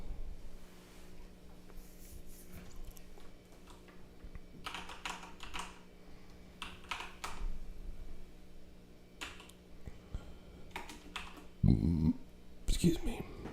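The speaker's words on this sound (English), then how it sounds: "So we're going to type in our IP address." Computer keyboard keys clicked in short bursts while typing an IP address, close and moderately quiet over a faint hum, with a few louder thumps near the end.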